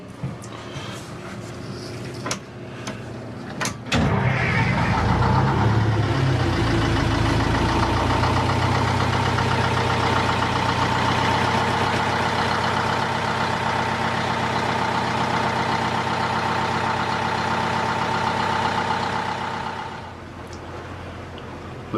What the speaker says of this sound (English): Since we got this close, we might as well start up the engine.